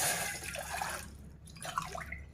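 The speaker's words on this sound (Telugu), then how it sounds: "2 కప్స్ వాటర్ తీసుకుంటున్నాను." Water poured from a cup into a cooking pot on a kitchen stove, two cups measured out for a home remedy; two close, splashing pours, each about a second long, with a short gap between them.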